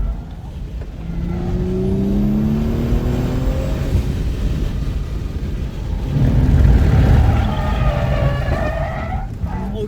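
A car on street Bridgestone Potenza tires loses grip on slick, freshly painted concrete rumble strips at Laguna Seca during a track day, engine whine sliding in pitch over a rough, broadband tire rush that swells midway, fairly close and continuous.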